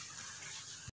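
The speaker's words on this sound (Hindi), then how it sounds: "थोड़ा सा दूध इसके अंदर और जाएगा" Milk poured into a glass for a strawberry milkshake, a short, quiet liquid trickle heard alone for about a second.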